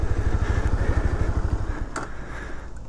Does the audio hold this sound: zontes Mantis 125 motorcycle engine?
yes